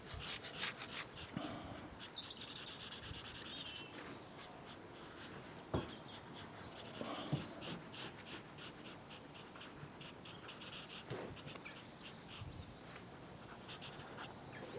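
Colour is added to a sketch of a Bentley Continental GT with quick, light scratchy strokes and rubbing on paper, close and quiet, in irregular bursts of short marks.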